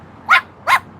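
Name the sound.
dog barking across the street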